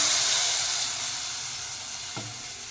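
Steady loud sizzling hiss of hot oil tempering poured into cooked dal for sambar, with a brief low thump near the end, fading slightly over a couple of seconds.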